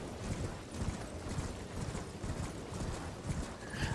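A horse gallops along a beach in the Elden Ring video game, its rapid hoofbeats drumming in a steady, continuous rhythm throughout, fairly close and prominent with no talk over it.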